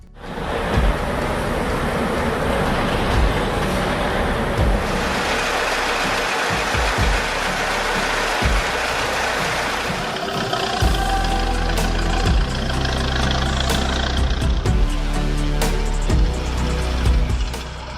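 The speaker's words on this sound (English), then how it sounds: "The HTZ T-74 is a Soviet crawler tractor" Soviet HTZ T-74 crawler tractor with its engine running, a steady rough low rumble with hissing noise that deepens into a heavier, throbbing drone partway through, continuous and fairly close.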